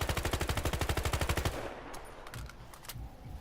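Automatic fire from an M16A3 in the video game Battlefield Heroes, a rapid evenly spaced burst of about twenty loud shots that cuts off after a second and a half, leaving a ringing tail with scattered fainter impacts.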